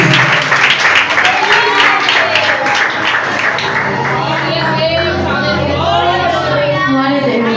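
A church congregation at a youth service claps to welcome a preacher, loud sustained applause filling the room, with voices and cheering mixed in and someone speaking over the clapping.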